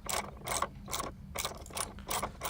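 Ratchet wrench on an extension tightening side step bolts on a 2019 Jeep JL Unlimited: about six quick, close clicking bursts in a steady rhythm, alone without talk.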